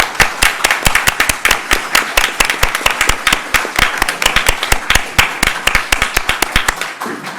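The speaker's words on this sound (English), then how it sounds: "I'd like to give them all a round of applause." Scattered hand claps ring out at a community services district board meeting as a small group applauds, the claps sharp, distinct and irregular, close to the microphone and steady for several seconds with no talk over them.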